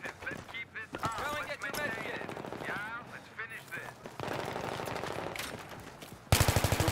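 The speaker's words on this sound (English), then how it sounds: "I'm getting shot from the bridge" Gunfire rattles during a 5-on-5 Battlefield 3 match on the Seine map, with bursts of shots over players talking, ending in a loud, close, rapid automatic burst.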